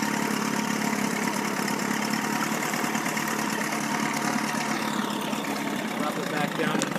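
A Chrysler Sailor 250 outboard motor running in reverse, a steady, loud, even engine drone that holds without a break and sounds smooth and continuous.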